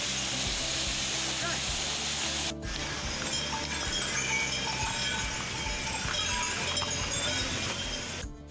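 Horse hooves clop along the busy Kedarnath trek path from Gaurikund, mixed into a steady wash of crowd noise and faint clinking, with irregular hoof strikes under the constant din.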